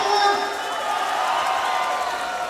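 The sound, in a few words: crowd applauding and cheering for club chairman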